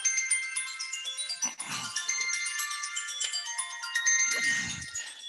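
A mobile phone ringtone plays a bright, repeating electronic melody of chiming notes, moderately loud and close, running steadily for several seconds during a talk, with brief low rustles in between.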